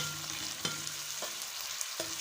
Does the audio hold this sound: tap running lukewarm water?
no